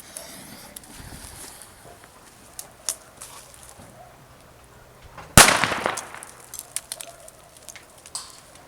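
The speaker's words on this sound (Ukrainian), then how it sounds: "Зараз ми протестуємо пластикову гранату типу F1" A plastic F1-type airsoft grenade goes off in one sharp loud burst, followed by scattered smaller pops and patter, with quiet ambient noise before it.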